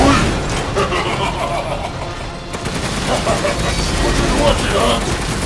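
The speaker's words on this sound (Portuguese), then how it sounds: "Continua atirando!" Sustained gunfire rattles through a firefight in Resident Evil Village, loud and continuous for several seconds, while voices speak over the shooting.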